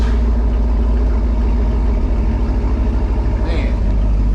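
Car engine running on its stock exhaust, a loud, deep, steady rumble with a pulsing low throb that stays close and continuous, joined by a brief higher whine near the end.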